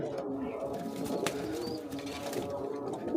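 Soft, low cooing from a pair of racing pigeons continues throughout, close by, with faint rustling and a brief higher chirp in the background.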